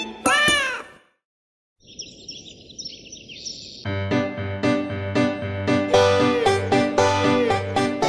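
Cartoon cat meows in a German children's rhyme song: a sharp meow opens, a brief silence follows, then chirpy sounds over soft noise, and the sung tune with steady rhythmic backing comes in.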